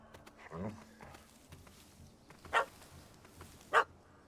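A dog in The Witcher 3 video game gives two short, sharp barks, spaced about a second apart, amid faint background ambience and a soft whimper-like sound earlier.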